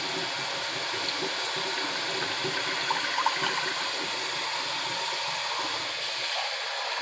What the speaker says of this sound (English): I'm not using cold water. I'm actually using warm tap water.